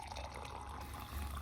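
A kettle of water comes to the boil during a quiet evening at home in a Sri Lankan village, giving a faint, steady bubbling and hissing rush with no talk over it.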